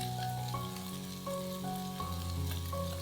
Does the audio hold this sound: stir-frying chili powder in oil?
yes